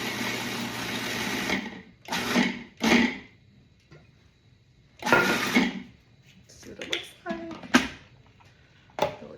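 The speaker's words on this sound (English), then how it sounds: "Then I'm gonna pulse it, and as I'm pulsing it, I'm gonna add in some olive oil." A food processor pulsing in several short bursts of whirring motor noise, separated by quiet pauses, while olive oil is added; the bursts are close and loud.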